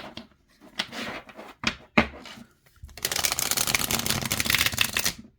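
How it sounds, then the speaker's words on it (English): Tarot cards, an African tarot deck, are riffled and snapped together in a few quick bursts, followed by a longer, steady flutter of shuffling. "let's see how it shuffles"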